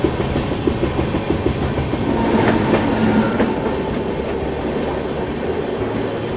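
Hisar Duronto Express passenger train rolling on the rails, heard from on board as a steady, loud rumble with rhythmic clickety-clack of wheels over rail joints and brief metallic squeals, no talking.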